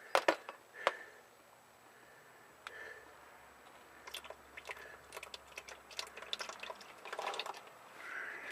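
Transmission fluid pouring from the transfer case vent pipe on a Chevy 4x4 truck with an NP241 transfer case: soft, irregular dripping and splattering, faint and close, with scattered ticks and wet spatters.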